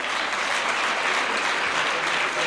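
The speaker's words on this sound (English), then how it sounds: "We can give them a big round of applause now." Steady applause fills an awards ceremony for an education organisation, a dense, continuous crowd clapping at even loudness throughout with no pauses.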